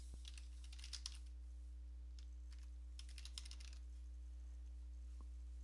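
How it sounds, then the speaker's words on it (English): Keys clatter on a computer keyboard in two quick faint flurries of typing over a steady low electrical hum, with a few isolated clicks afterward. "And you want to type in Troubleshoot."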